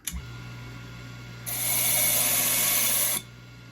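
A wire brush wheel on an RY456 key duplicator deburrs a freshly cut key, giving a steady, loud whirring scrub that lasts under two seconds, over a low, constant motor hum.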